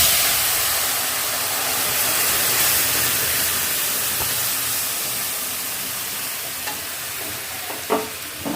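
Moong dal pours into a hot ghee tempering, giving off a steady, loud, broad hiss and sizzle that slowly fades, with a few faint clinks near the end.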